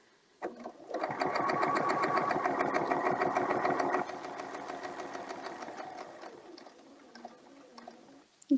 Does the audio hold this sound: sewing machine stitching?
yes